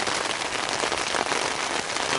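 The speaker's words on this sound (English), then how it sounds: "Just because it's been raining so much." Steady rain falls on a surface outdoors during a coastal island deer hunt in Maine, a dense, continuous hiss of drops with no pauses and no voices.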